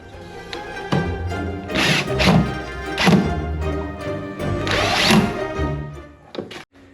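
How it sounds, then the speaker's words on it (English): Power drill driving screws into a track during a build, several short bursts of whirring with thunks and clunks between them, close and fairly loud, no talking. "now we just got to screw that in"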